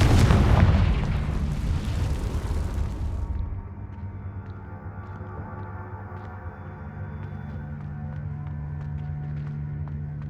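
Confringo spell blast in the Hogwarts Legacy video game: a heavy, booming explosion at the start with a deep rumbling tail that decays over about three seconds into steady quieter game ambience.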